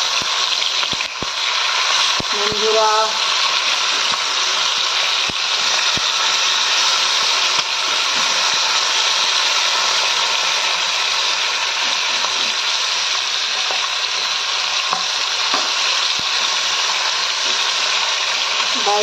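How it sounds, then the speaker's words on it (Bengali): Fish frying in a pan on a home kitchen stove, a loud continuous sizzle and spitting hiss close by that runs the whole time, with someone briefly speaking over it near the start. "মাছ ভাজা হচ্ছে"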